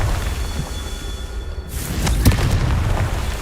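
A Confringo spell explodes in the Hogwarts Legacy video game: a quiet stretch, then a sudden loud booming blast with a rushing roar that rumbles on and fades slowly.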